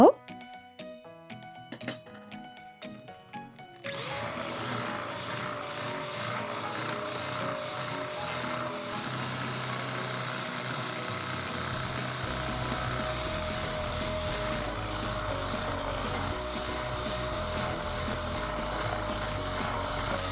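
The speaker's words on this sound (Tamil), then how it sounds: "எல்லாத்தையும் ஒன்றா சேர்த்து பீட்டரால் அடிச்சிடுங்க" An electric hand beater whirs steadily while mixing condensed milk and sugar into batter for an eggless date cake, starting after a few seconds of clinks and clatter and then running loud and continuous to the end.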